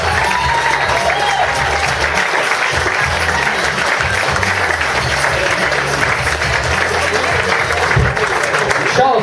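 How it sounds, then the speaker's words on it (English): A loud, sustained burst of audience applause and cheering fills the room at the close of a stand-up comedy set, steady and dense from start to finish. "Let's get a big round of applause"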